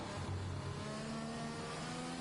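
A Formula 1 car engine from the F1 2021 racing game at the Mexico circuit, returning to the pits, holding a steady mid-pitched drone with a slight shift in tone, continuous and moderately loud.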